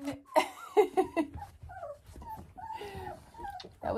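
Wobbly young puppies whimper and whine in a string of thin, high cries and short yelps, some bunched together and others drawn out, heard up close in a quiet room.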